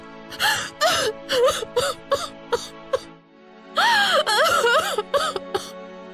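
A woman panting and sobbing in a radio drama, ragged breathy gasps and wailing moans in uneven bursts, close and loud over a faint steady background hum.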